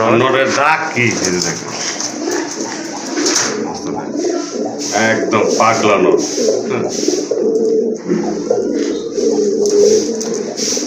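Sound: pigeons cooing

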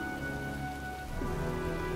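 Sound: rain in the video game Heavy Rain Remastered

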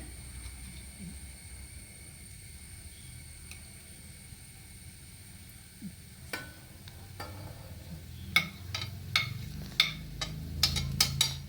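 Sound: carrots and beans frying in a pan

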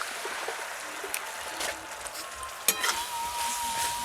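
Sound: stirring coconut and melted sugar filling on low heat

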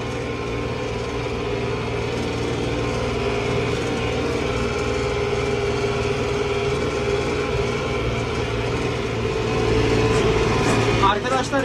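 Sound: tractor engine idling and revving

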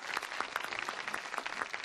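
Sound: studio audience applause

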